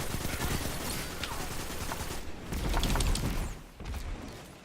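Rapid automatic gunfire in the shooter video game Destiny 2, dense bursts of shots layered over one another, fairly quiet with a brief lull near the end.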